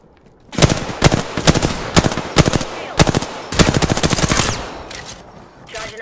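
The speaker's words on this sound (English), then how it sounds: "Shots fired, and they're hitting me" Bursts of automatic gunfire from the video game Apex Legends hit the player in rapid, loud volleys, about a dozen sharp strings of shots with short gaps between them.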